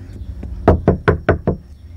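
Knuckles rap on a door that has no bell, first two soft taps and then five firm, evenly spaced knocks in quick succession, close to the listener in a quiet room.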